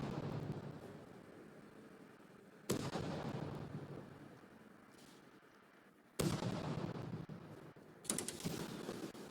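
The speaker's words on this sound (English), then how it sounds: "Keep firing." Weapons fire in the naval combat game From the Depths, heard as a steady rumbling barrage with three sharp, booming shots standing out from the continuous roar, at low overall level.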